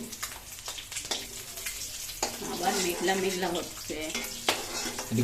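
Eggs frying in a pan for a Bengali egg curry with eggplant, a soft continuous sizzle and spatter with scraping stir strokes, and a voice speaking over it at moments.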